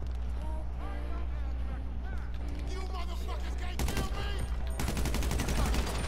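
Automatic gunfire in GTA V Online hammers in long bursts, with scattered shots early on and then two loud, sustained volleys in the last seconds, over a low game rumble.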